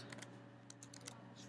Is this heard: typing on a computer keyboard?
yes